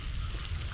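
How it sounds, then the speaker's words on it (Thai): Rain falls as a brief, steady, broadband hiss that stays at an even level throughout, with no voices or other distinct sounds. "บรรยากาศฝนตกครับ"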